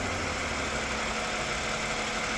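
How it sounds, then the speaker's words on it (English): A Toyota Sienna (3rd gen) engine idles steadily during a transmission fluid change, a continuous low hum with even broadband noise, close and moderately quiet with no voices. "the engine's still running"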